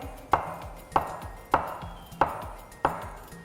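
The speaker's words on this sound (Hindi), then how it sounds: "1 इंच के साइज़ से आपने काटना है। 2 केले आप काटें।" Five evenly spaced, sharp knife chops through bananas cut into one-inch pieces on a board, close and crisp with a steady rhythm and no talking.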